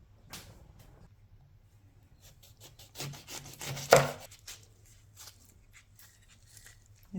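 A knife cuts through a lemon in a kitchen, giving soft, close scraping and rubbing strokes, with a sharper chop near the middle and quiet gaps around it.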